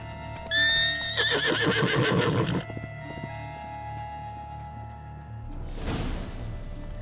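Roach, a horse in The Witcher 3, whinnies loudly up close for about two seconds, with hoofbeats clopping beneath, then a quieter stretch ends in a short snort or stamp.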